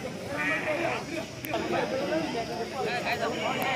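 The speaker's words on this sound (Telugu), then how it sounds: "కట్ట అయితే ఉన్నాయండి మేకలు" Goats bleat repeatedly at a busy Tuesday goat and sheep market in Kadiri ahead of Bakrid, several animals calling in overlapping bursts while people talk nearby throughout.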